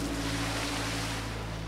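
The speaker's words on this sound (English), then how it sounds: "Chugging along in a tugboat" A tugboat on the Mississippi River chugs along with a steady low engine drone, mixed with continuous water wash and wind noise, close and loud.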